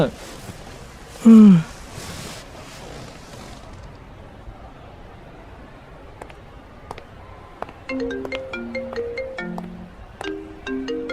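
A phone rings in a Punjabi film scene, a bright melodic ringtone of repeated tone patterns starting partway through and continuing to the end, preceded by a brief sharp chime and quiet room sound.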